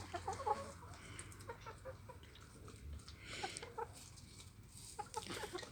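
Egg-laying hens on a chicken farm cluck continuously, several birds overlapping at moderate distance, with intermittent sharper clucks over a steady low background and no roosters present.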